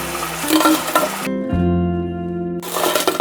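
Loud crackling sizzle of baby potato sticks frying in hot oil over a medium flame, with a tonal musical passage briefly taking over in the middle.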